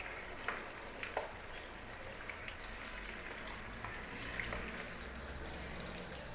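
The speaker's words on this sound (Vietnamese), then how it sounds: "bây giờ mình cho đậu hũ vô chiên trước nha mọi người" Tofu frying in hot oil for a Vietnamese bún đậu meal, giving a steady close sizzle with scattered small crackles and pops and no talking.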